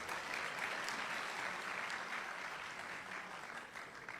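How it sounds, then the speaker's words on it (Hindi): Applause for poets at an Urdu poetry gathering, a steady wash of clapping from the audience lasting the whole stretch, quite faint and distant with no voices standing out. "बहुत सारी तालियां होनी चाहिए"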